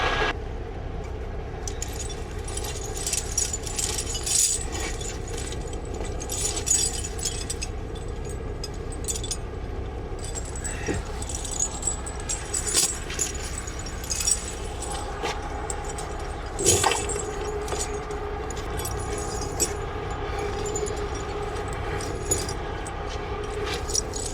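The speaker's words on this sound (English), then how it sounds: "Chains are tangled up. That's what you get when you haven't chained up for a while." Tangled steel tire chains for a Super B truck clinking and jangling as they are handled at a winter roadside chain-up, with steady metallic rattles and occasional sharper clanks over a constant low rumble of traffic or an idling engine.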